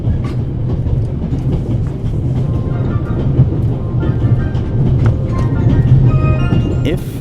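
A train rolls along rails in the video game The Raven Remastered, a loud steady rumble with rhythmic clickety-clack and faint metallic squeaks throughout.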